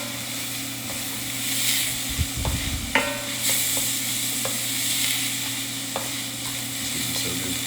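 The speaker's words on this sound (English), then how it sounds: "You can smell all the garlic, the onion, the celery, and the carrots doing this thing." Garlic, onion, celery and carrots sizzle steadily in a pan for a tagliatelle bolognese, a soft continuous frying hiss broken by a few brief utensil knocks and stirring scrapes, with no talk.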